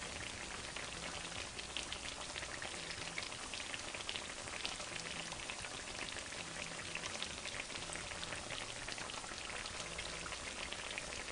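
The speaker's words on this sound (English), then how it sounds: "Wait for the bubbling to slow down on the other side." Latkes fry in hot oil with a steady, dense sizzle and crackle that stays even and unbroken throughout, close-up and alone.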